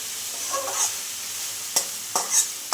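Radish greens fry with garlic and dried chilli in a pan, a soft continuous sizzle broken by several sharp scraping stirs of a spatula close by, with no talking.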